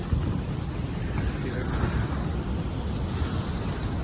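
Sea waves crash around a small fishing boat out at sea, a rough continuous wash of surf mixed with heavy wind buffeting on the microphone.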